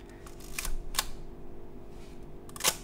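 A Nikkormat FTN film SLR has its film winder lever advanced, giving a few close, quiet ratcheting clicks and a smooth mechanical whir in an otherwise still room.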